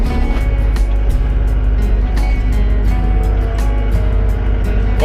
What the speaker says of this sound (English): Let's jump in the old skid loader, eh?